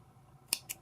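Two quick snips of scissors cutting crochet yarn, close and crisp, spaced a fraction of a second apart against a quiet room.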